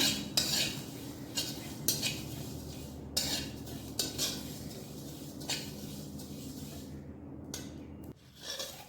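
Shahjeera seeds dry roasted in a pan over a low flame, with repeated scraping and stirring clinks of a metal spoon against the pan at an irregular pace, fairly close and quiet.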